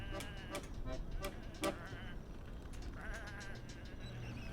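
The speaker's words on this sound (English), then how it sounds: "Come on, these are just sheep." Sheep in the video game Whateverland bleat in a quick cluster of short, wavering cries, several overlapping near the start and a softer one later, over a low background hum.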